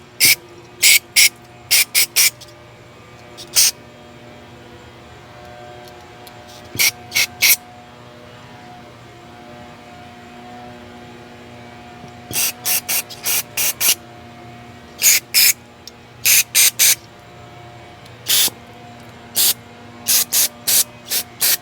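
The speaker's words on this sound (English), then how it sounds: "I think I'm just going to spray carb cleaner in everything that looks like it needs some." Short bursts of carb cleaner sprayed into the carburetor of a Champion dual fuel 3500 watt generator, hissing on and off in irregular clusters of quick squirts against a low, steady background hum.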